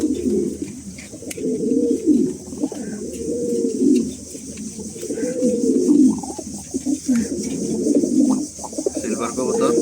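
A pair of pet pigeons, including a silver one, coo close by in repeated rolling, throaty phrases that rise and fall in a steady rhythm for about ten seconds.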